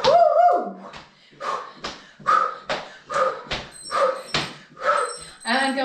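A puppy lets out a rising whimper, then a run of about eight short, sharp yips in a steady rhythm, close and fairly loud, during a bodyweight workout at home.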